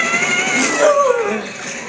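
A person lets out a short, loud, high-pitched scream that wavers and falls like a yowling cat, lasting under two seconds, a human voice mimicking a cat-like caterwaul.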